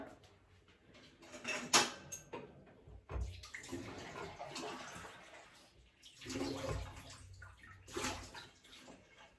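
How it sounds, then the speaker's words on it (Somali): Water is poured into a cooking pot in a few uneven splashing bursts, close but fairly quiet, with light clinks of the pot and kitchenware between pours and no talk. "waxaan rabaa inaan kariyo halkaas koob oo biyo ah"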